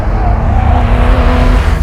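A Porsche 2.7 RS road car on a race track makes a loud, steady engine drone close to the microphone, holding a sustained pitch as it pulls through a fast corner.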